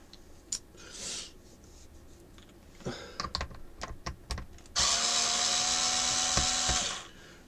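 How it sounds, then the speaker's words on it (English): Screws come out of a Compaq F700 laptop in a run of light clicks and ticks, ending in a steady electric screwdriver whir of a few seconds, all close and quiet. "It's just a matter of undoing all the screws."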